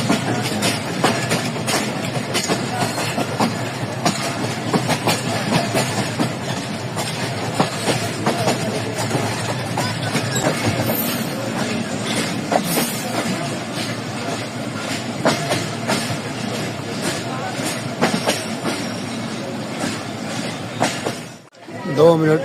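A Pakistan Railways train pulls out of Gujrat station, its wheels clacking in a steady rolling rhythm under a constant loud rumble from inside the carriage, with a brief dropout near the end.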